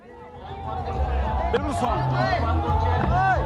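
Crowd noise at a BJP road show for JP Nadda, a steady hubbub of voices and cheering that swells slightly, with a person speaking over it.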